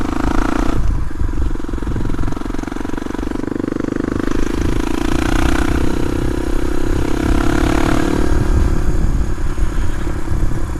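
A Suzuki DR250S motorcycle idles with a Dominator R exhaust fitted without its baffle, a loud, steady, close-up thrum with clattery mechanical texture holding for the whole stretch.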